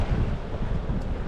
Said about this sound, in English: the waves are breaking in there